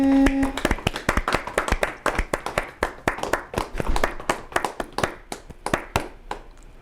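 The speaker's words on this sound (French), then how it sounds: "Nous allons demander à tout le monde d'acclamer notre nouveau président Didier Okende." At a Congolese community gathering in Ottawa-Gatineau, a crowd greets new president Didier Okende with loud, crisp clapping. Sharp individual claps form a brisk, fairly steady beat that lasts throughout.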